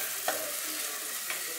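Butter sizzling and frying in a pot on the stove, a steady soft crackle with a couple of brief stirring scrapes, close and alone.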